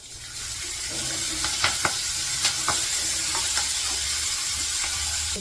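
Spinach dropped into a sizzling cumin tempering, a loud rushing sizzle that swells as the leaves hit the oil, with a few sharp spatter pops and stirring scrapes, no talk.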